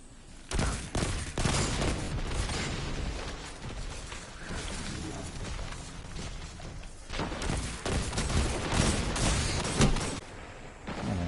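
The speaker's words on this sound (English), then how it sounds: "Maybe I use another hand cannon. Maybe this hand cannon's no good." Rapid, repeated hand cannon gunfire from Destiny 2 crackles in dense bursts through the whole stretch, loud and busy with no voice over it.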